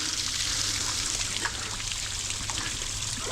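Water trickling down into a hole dug for a trap set during a trapping outing in Iowa: a steady, close, continuous hiss of running water with faint splashy ticks throughout.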